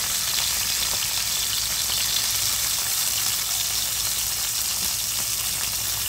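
Onion hits hot oil in a pan where garlic is already cooking, giving a loud, steady, dense sizzle that hisses evenly throughout.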